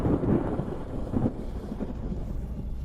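Thunder from a ninefold lightning tribulation in a fantasy sword-cultivation story, a heavy continuous rumble with louder crashes near the start and again about a second later, then a steady roll to the end.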